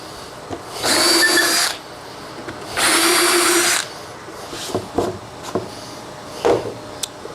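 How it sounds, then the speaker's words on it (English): A power drill with a countersink bit bores screw holes in wood for a stove cover, giving two loud, close whirring bursts about a second each, followed by quieter clicks and handling knocks. "So just gonna go in and put my countersink in."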